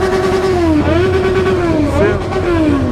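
A BMW S1000 motorcycle engine revs hard and close while the rider holds a wheelie at a traffic light, a loud sustained snarl with rising and falling pitch.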